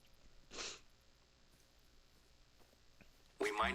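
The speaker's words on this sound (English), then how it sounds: "Sorry, I gotta sneeze real quick." A single short sneeze sounds near the start, followed by quiet and then a sharp burst of noise at the end.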